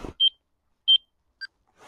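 Two short, high electronic beeps from a level detector separated by a pause, followed by a fainter two-tone blip, clear against silence.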